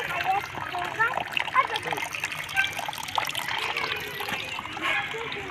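Small artificial waterfall built by teachers at a school, a continuous trickling and splashing of water, with children's voices and chatter around it.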